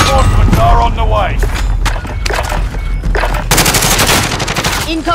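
Loud incoming automatic fire in Call of Duty: Modern Warfare. Rapid machine-gun bursts and scattered gunshots come in close, continuous volleys over several seconds, with a voice talking over them.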